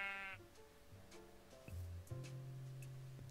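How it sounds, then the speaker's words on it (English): Sheep bleating in the Minecraft video game, a clear bleat at the start followed by game ticks and tonal background sounds. "I found a sheep, guys."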